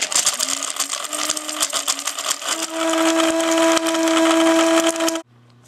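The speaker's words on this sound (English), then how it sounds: "I got my grinder top on, my coffee bean grinder. I've got the almonds inside" A coffee bean grinder pulverises almonds into flour with a loud, rough whirring roar that rises in pitch partway through, then cuts off abruptly at the end.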